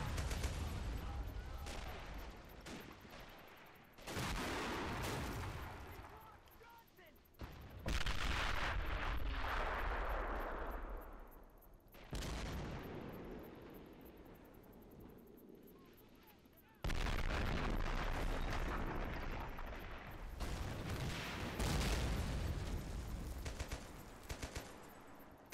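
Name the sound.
French artillery gun firing in a video game siege battle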